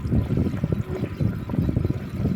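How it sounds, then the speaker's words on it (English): Water from a solar-powered submersible pump gurgles and splashes steadily into a farm tank, a continuous close flow with no voices. "I think you can hear the sound of water passing through to the tank"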